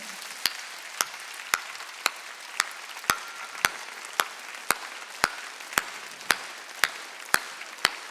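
A church congregation at a Wednesday worship service claps in unison, about fifteen sharp, evenly spaced claps at a steady beat, moderately loud and without talk.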